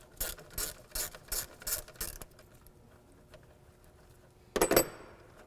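Ratchet wrench with a 10mm socket loosening a bolt near the battery and reservoir of a 1998-2010 Volkswagen Beetle, a series of quick close clicking strokes, a pause, then one louder metallic clack.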